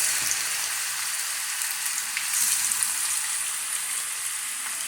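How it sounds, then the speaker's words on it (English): Pork browning in hot oil for Jamaican brown stew, a loud, steady hiss of frying with occasional crackles and pops up close. "Hot, so I'm going to put my meat in and start browning my meat."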